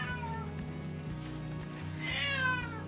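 A tomcat meows in a home kitchen, several drawn-out cries that grow louder toward the end over a steady low hum.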